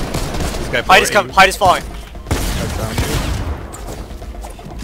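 Rockets fire in rapid volleys in a multiplayer shooter video game, loud and crackling, mixed with players talking over the action.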